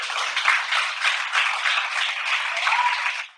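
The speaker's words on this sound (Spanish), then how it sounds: "os damos un aplauso a las que estamos aquí" A live studio audience claps together in dense, steady applause that carries evenly for a few seconds before cutting off abruptly, with no voices over it.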